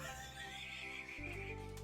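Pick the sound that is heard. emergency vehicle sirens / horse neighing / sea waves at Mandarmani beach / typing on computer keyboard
horse neighing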